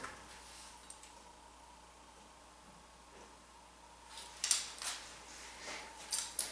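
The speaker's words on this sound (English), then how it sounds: "open and shut those shears." Hair-cutting shears opening and shutting gently during a chunky bob haircut: faint, quiet snips at first, then a few crisper metallic clicks near the end.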